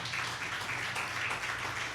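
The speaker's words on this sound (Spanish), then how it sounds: "¿Cuántos le dan un fuerte aplauso a Jesucristo?" A church congregation applauds with steady, continuous clapping that fills the whole moment at a moderate distance, without any talk over it.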